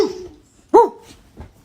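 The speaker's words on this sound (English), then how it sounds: "Bark at your dog." A dog gives one sharp, loud bark up close, followed moments later by a fainter short yip over quiet background.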